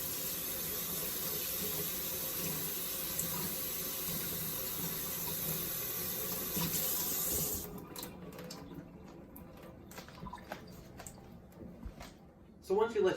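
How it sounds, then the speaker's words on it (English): Tap water runs steadily over rice being rinsed in a sink, a loud, even hiss for several seconds before it cuts off, leaving quieter splashes and handling noises as someone talks. "Just let the water run over it. Move it around just a bit."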